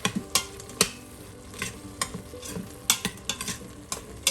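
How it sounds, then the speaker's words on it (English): Onions frying with browned meat in an Instant Pot for Indian-style chili, a steady sizzle broken by repeated scraping, clacking stirs of a utensil against the pot at an irregular rhythm, close and clear. "We're going to fry the onions for a couple of minutes just to get it translucent"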